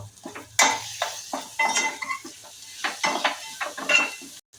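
Pre-roasted sandge are sautéed with coriander leaves in a pan. A utensil makes busy scraping and clinking strokes against the pan over a light sizzle, close up and moderately loud, with no voices.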